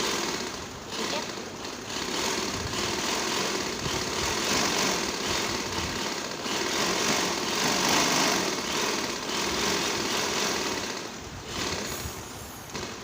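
A sewing machine stitches the hem of a trouser leg with a continuous, fairly loud mechanical whirr that runs almost unbroken and fades slightly at the end.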